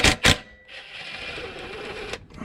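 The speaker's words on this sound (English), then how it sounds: "I'll grab the rattle gun" A rattle gun (impact wrench) cracks bolts loose while working on an RB25DET-powered R32 Skyline with a failed clutch: two sharp close bursts, then a steady whirring drone that runs about a second and a half before a final clatter.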